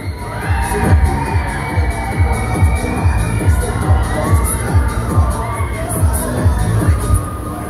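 A crowd of riders screams and cheers continuously aboard the Transformer fairground ride at the Allerheiligenkirmes fair in Soest, loud and dense, with the ride's machinery pulsing beneath the shouting.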